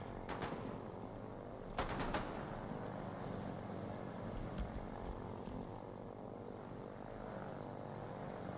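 A propeller plane drones steadily in the video game Foxhole, a low, throbbing engine hum throughout, with a couple of quick bursts of machine-gun fire near the start and faint shots later.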